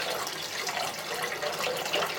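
Water is poured steadily into a small tank beside a flower, giving a continuous close splashing and trickling with no talk.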